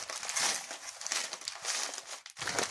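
A plastic bag crinkles steadily and fairly loudly as plant cuttings are wrapped in it, with a brief pause near the end before the rustling resumes.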